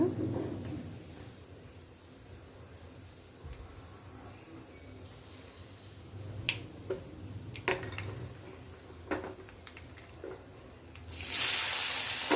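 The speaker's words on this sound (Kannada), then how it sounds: "ಸಾಸಿವೆ ಮತ್ತು ಜೀರಿಗೆ ಇದನ್ನು ಸಿಡಿಯೋಕ್ಕೆ ಬಿಡೋಣ" Mustard seeds and cumin in a tablespoon of hot oil for a kumla (pumpkin) dish give sparse, sharp crackling pops over a faint sizzle. The hiss swells loudly at the end.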